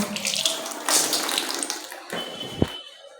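Tap water runs and splashes into a basin to soak a sweater, a bright hissing gush with a brief clatter and a stop near the end.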